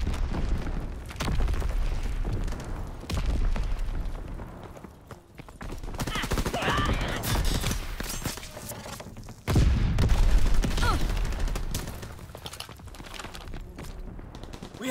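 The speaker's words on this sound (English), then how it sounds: "Call for a strafing run." Strafing-run gunfire from a called-in fighter in Call of Duty WWII Team Deathmatch on Pointe du Hoc: loud bursts of rapid gunfire and booming impacts, strongest mid-clip and again around ten seconds, over steady battlefield noise.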